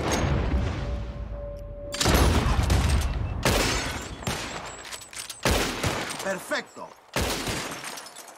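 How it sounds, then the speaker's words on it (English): Gunfire shooting bottles in the video game Red Dead Redemption 2: several loud, close shots in quick bursts, each with crashing breaking glass, separated by brief pauses, with a voice exclaiming once. "Who can shoot the most bottles?"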